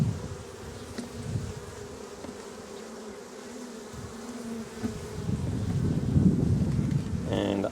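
Honeybees buzz around an open flow hive, a close, steady hum with wind rumble and handling noise that grows louder toward the end, with a voice briefly audible.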